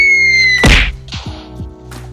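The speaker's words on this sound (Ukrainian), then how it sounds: "Першим у нас буде звичайна граната. Кидаємо." An ordinary grenade from a Minecraft guns mod is thrown and bursts in one loud, dull thump, followed by a few fainter knocks as the game's ambient tones hum underneath.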